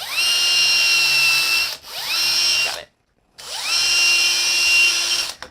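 A power drill with a 3/4 spade bit bores into plastic in two close, loud bursts of high whining motor sound, each spinning up and winding down, separated by a short pause.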